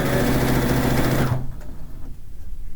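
A sewing machine stitches through a quilt with a fast, steady whirring motor and rapid needle rhythm, running loud and close for over a second before stopping abruptly, leaving faint room noise.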